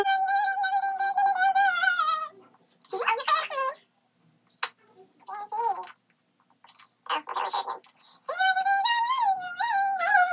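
An orange cat meows repeatedly, with long drawn-out cries at the start and end and shorter calls in between, close and loud, while people talk nearby.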